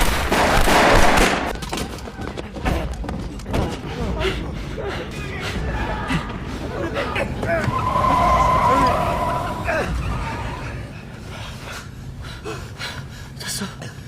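A film scene of gangsters in front of a casino has gunshots cracking alongside a car speeding and skidding away, loud and chaotic, with gasps and voices mixed in.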